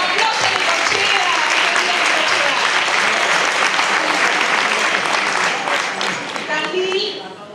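An audience of lawyers at a seminar on divorce and the family home gives loud, sustained applause that fades near the end, with voices talking over it.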